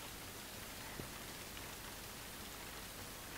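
Steady rain in Dragon Quest XI falls as a faint, even hiss of drops on surfaces, continuous and soft with no other sounds.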